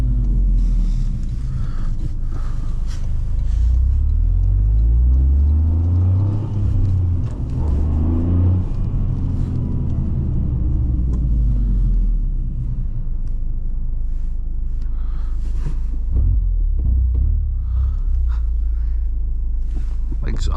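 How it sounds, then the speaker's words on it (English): A 2023 Toyota GR Corolla Circuit with a manual gearbox on a test drive, its engine and exhaust droning loud and near from inside the cabin, pitch sweeping up and down as it revs through gears, with someone talking at times. "Exhaust sounds good."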